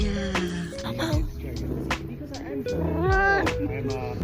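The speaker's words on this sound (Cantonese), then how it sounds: "呢度仲有隻貓貓啊，好可愛啊！" A cat meows at a small private French winery, several brief rising and falling cries scattered across a few seconds amid people talking nearby.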